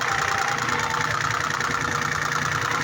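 A pressure washer motor drones steadily under load, a dense, constant mechanical hum with a slight rough edge, close and continuous.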